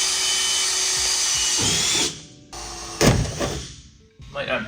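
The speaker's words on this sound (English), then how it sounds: "We're gonna drill all around basically this like factory line right here." A power drill drilling into a van body whines loudly for two seconds, then stops; clunks and short bursts of handling noise follow, with another brief drill whir near the end.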